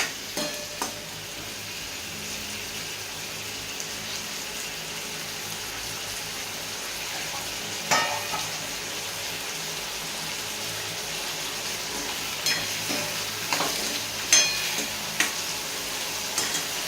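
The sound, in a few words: oil sizzling in a pan while stirring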